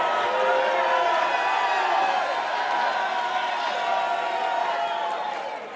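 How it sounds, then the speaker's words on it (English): A wrestling crowd in Dallas roars steadily behind luchador El Dragon during a match, a dense, sustained wall of cheering that stays loud throughout and tapers slightly at the end. "The crowd here in the Big D definitely behind El Dragon."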